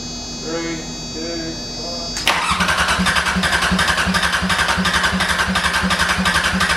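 A 34-year-old Sabb marine diesel engine on a sailboat cranks on its starter after a steady hum with voices, then turns over loudly in a fast, even chugging rhythm that holds to the end.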